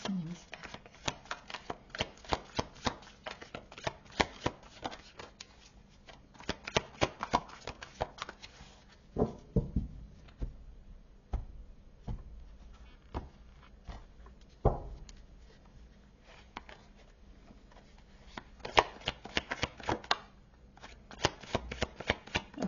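Tarot deck shuffled for a reading, with steady crisp riffling and flicking of cards, close and repeated in bursts, with occasional louder slaps of the cards.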